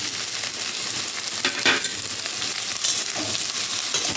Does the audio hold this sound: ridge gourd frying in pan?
yes